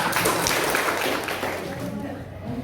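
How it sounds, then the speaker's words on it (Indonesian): A classroom group claps together after giving an answer, a dense, fairly loud patter of many hands that fades toward the end. "Oke, tepuk tangan"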